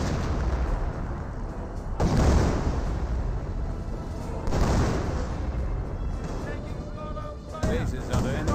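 Artillery fire thunders across a Company of Heroes battlefield, with heavy booming impacts landing roughly every couple of seconds over a continuous rumbling din, while a voice talks over the action.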